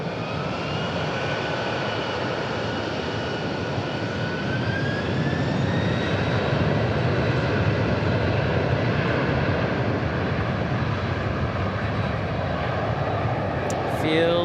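Sustained jet engine roar from aircraft at DFW International Airport, loud and steady throughout with a broad rushing wash and faint rising whine, close by and continuous.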